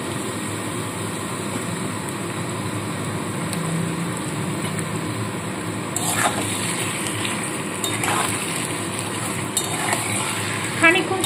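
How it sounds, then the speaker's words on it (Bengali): Marinated chicken with salt and turmeric frying alongside onions in a pan for coriander chicken, a steady close sizzle with occasional stirring and utensil scrapes. "খানিকক্ষণ সময় চিকেনটাকে একটু ভেজে নেবো পেঁয়াজের সাথেই"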